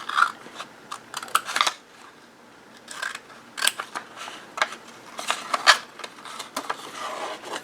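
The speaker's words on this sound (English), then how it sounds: "we're going to take our scissors and we're going to cut out a nice V." Scissors cutting a V notch into paper at a score line while making an envelope-style journal: a series of close, crisp snipping clicks in irregular bursts with short pauses between them.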